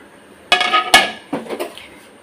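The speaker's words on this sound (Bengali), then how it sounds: "আচ্ছা, এখন আমি টমেটো ঢেলে দিব।" Tomatoes go into a cooking pot: several clattering, clinking impacts of metal and food in two bursts, loud and close, with no talking.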